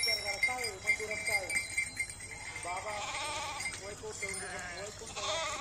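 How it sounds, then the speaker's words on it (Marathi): Penned sheep bleat repeatedly in an enclosure at evening: several wavering calls overlap at close to mid range, with a steady background murmur and a continuous hum underneath. "संध्याकाळी आम्ही मेंढ्या कोंडलेल्या आहेत"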